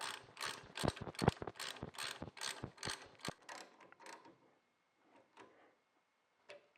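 A ratchet wrench tightens the sway bar mount bolts on a 1966 Nova's front suspension, giving about a dozen quick close clicks in a run, then a few faint scattered taps.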